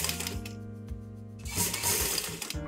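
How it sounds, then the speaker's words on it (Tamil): A sewing machine stitches the neck finish of a chudidar made without canvas or lining, its steady mechanical whirring rising into a faster, louder run partway through, with no talk. "அதே தான் இந்த கைடு அளவுக்கு தான் நான் தையல் போட போகிறேன்."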